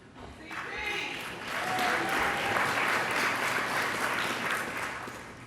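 Applause from the crowd at a Basketball Hall of Fame enshrinement speech swells and holds steady for several seconds, a dense wash of clapping with faint voices beneath.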